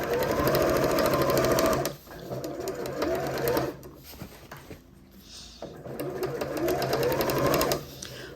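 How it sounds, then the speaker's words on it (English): Close and loud, a sewing machine stitches around the top of a fabric holdall bag in three bursts separated by short pauses, with faint talking in the gaps. "I'm going to sew all the way around the circumference of the top of the bag."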